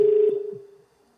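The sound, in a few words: old telephone dialing tones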